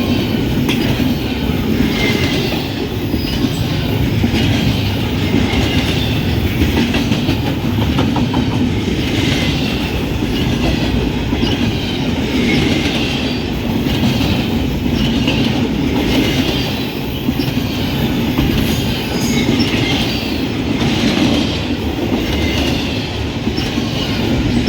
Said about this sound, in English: NS 264 races north with loaded intermodal containers